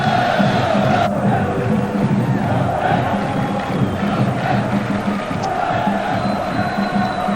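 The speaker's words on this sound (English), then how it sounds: "playing in front of a crowd as noisy as this" A football stadium crowd at Montpellier's Cup Winners' Cup night match against Manchester United roars loudly and continuously, with massed chanting and cheering that swells and holds.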